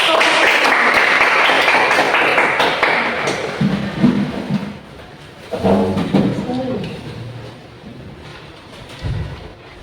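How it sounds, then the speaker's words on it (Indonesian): A classroom group of students applauds as a team is called up to present their game project. The clapping is dense and loud at first, then fades within a few seconds as voices take over. "Tepuk tangan untuk"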